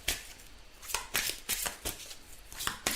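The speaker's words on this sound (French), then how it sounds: "On va tirer 3 petites cartes aussi de l'oracle de Gaïa." Gaia oracle cards shuffled by hand in a series of crisp, riffling bursts with short pauses between them, close and clear, with no talking.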